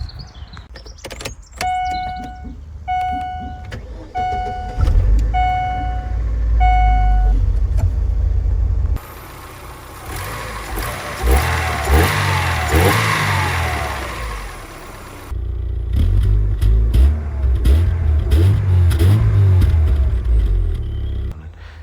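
A 1999 Daewoo Lanos engine idles with a low rumble after warning chimes, then revs up and down in several loud surges before settling back to idle.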